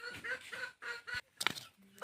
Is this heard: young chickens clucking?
yes